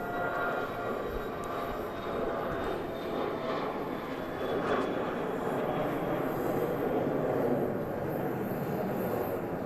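An airliner accelerates down the runway at Dallas Love Field on its takeoff roll, a steady, broad jet roar from a moderate distance that holds throughout, with no talk.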